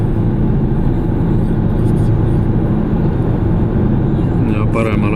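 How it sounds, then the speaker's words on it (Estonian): Car interior while driving on a rural road from Tartu toward Jõgeva in Estonia, a steady loud low rumble of engine and road noise throughout, with a faint brief sound near the end. "Sõites siis autoga."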